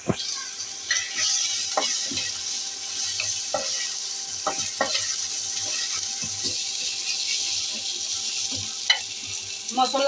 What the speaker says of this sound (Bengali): মশলা ভাজা শেষ